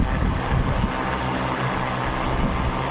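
Agricultural spraying drone flying at high speed over farmland, its rotors giving a steady, loud whirring drone with wind buffeting throughout, no voices.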